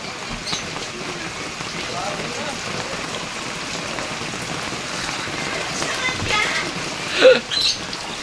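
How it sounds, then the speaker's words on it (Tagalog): Steady rain falls during a flood in a Bacoor neighborhood, a continuous hiss of drops on water and surfaces with a brief louder knock near the end. "Umuulan na naman. Palalim na naman siguro."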